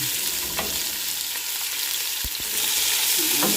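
Beef and spare ribs fry in a pan for beef adobo, a steady close sizzle filling the clip with a few sharp scrapes and pops along the way, and no talking.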